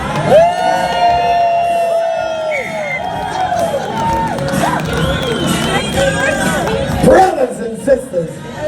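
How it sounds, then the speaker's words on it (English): A live sideshow circus audience at Expo Five on Kentucky Derby Eve roars with sustained cheering, whoops and shouting, a loud dense crowd that swells and stays busy throughout, with an announcer's voice mixed in. "big round of applause for Mr. Nick"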